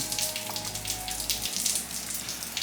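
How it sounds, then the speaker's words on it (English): Steady rain hisses and patters outside a workshop where a katana handle is being rebuilt, a constant wash of drops with a low hum that cuts out partway. "Nice rainy day."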